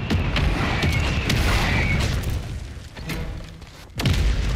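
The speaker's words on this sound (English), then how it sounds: "Alright, mortars are done." Mortar rounds explode in a Modern Warfare match, dense rumbling blasts and debris crashes filling the mix, with a sharper, louder impact near the end.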